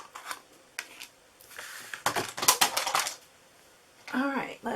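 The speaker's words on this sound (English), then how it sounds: "I'm going to cut a piece of soft suede a little bit smaller so that I can just cut this out all at the same time" Scissors snipping through soft suede for a handmade card, a string of close, sharp crisp cuts in short bursts, with a voice talking at the end.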